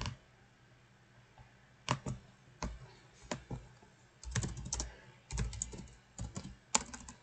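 Bursts of clicky keystrokes on a computer keyboard, irregular and close, with short pauses between clusters of taps and no talking.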